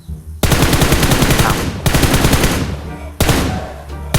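Rapid automatic gunfire in PUBG Mobile on the Rondo map, loud and close, rattling in three long sustained bursts with brief gaps between them.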